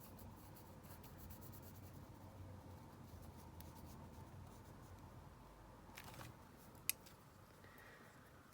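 A pencil drawing on paper in an art journal gives a soft, continuous scratchy rasp, faint and close, with a brief rustle near the end and a single sharp tap.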